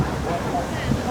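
Strong wind buffets the microphone outdoors near the Yokohama Chinatown gate during Chinese New Year, a rumbling low roar that covers the whole moment, loud and close, with a voice briefly audible.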